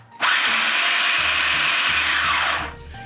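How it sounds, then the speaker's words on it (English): A food processor whirs through a single long pulse on pie dough made with Ciroc, a loud, steady motor whine that starts abruptly, holds for a couple of seconds, then winds down. "This time the pulses should be a little longer because you want everything to come together."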